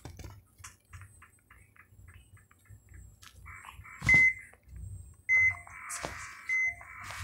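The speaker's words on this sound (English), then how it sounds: "The beeping you hear in the background is just the hospitals that are taking care of so many patients." Electronic beeps from hospitals in the strategy game Plague Inc. sound as a few short tones over a soft, pulsing background, with a louder cluster of beeps near the end.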